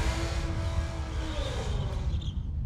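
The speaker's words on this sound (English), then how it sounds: "Yeah, see, this is a loud car." A loud hot rod at a drag week event, engine droning with a deep steady exhaust rumble, heard from inside or near a vehicle, sustained at constant volume throughout.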